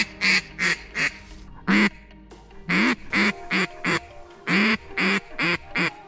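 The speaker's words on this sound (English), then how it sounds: "Two ducks fly over my head" A run of loud, nasal duck quacks in short bursts from ducks flying overhead during a hunt, roughly a dozen calls with brief pauses, close by and without talk.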